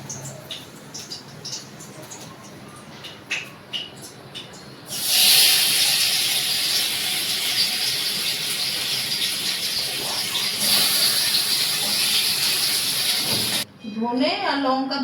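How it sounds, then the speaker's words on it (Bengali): Pabda fish crackling and spitting in hot frying oil: a loud burst of hissing sizzle erupts midway and holds steady, with faint talk before it and a brief voice at the end. "মাছগুলো প্রচন্ড ফাটছে"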